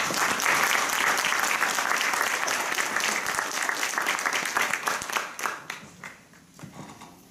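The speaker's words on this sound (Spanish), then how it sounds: "yo los recibiría con un fuerte aplauso." An audience at a human rights panel breaks into sustained applause, dense clapping that stays strong for several seconds, then thins out into scattered claps and fades.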